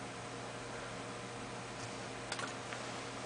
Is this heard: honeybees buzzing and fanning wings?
no